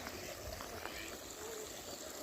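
A small stream in springtime Portugal babbles and trickles steadily, producing soft, continuous water noise with occasional faint splashes nearby.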